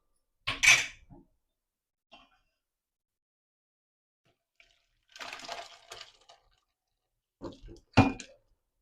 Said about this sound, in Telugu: గిన్నెలోకి పోసేస్తానండి.